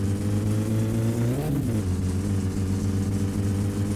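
A car engine in the video game My Summer Car drones steadily, then revs up and dips briefly before settling back into a constant mid-pitched hum, loud and close with no talk.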